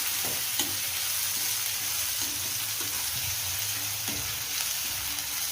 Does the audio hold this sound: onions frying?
yes